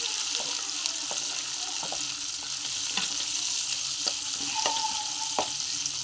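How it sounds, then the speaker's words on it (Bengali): Ingredients fry in a pan with a continuous sizzle, while a spoon scrapes and knocks against the pan at irregular moments and water runs faintly in the background. "এবার এগুলো সব ভাজবো,"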